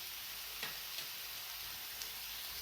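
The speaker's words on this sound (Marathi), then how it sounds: "याला आपण आणखीन एकदा मिक्स करून घेऊया" Guar beans cook on a low gas flame in a pan without water, giving a faint, soft sizzle with a few light stirring taps over a short stretch.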